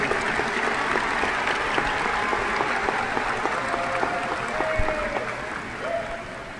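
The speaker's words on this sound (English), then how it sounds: "With your applause, please thank those special guests who are here" Steady, dense applause from a large high school graduation crowd, many hands clapping continuously with a faint whistle rising over it.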